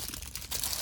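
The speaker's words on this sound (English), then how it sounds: "Sorry for the crinkling." Plastic packaging for alphabet resin molds crinkles briefly and faintly, a short burst of crackling rustle lasting under a second with no voices.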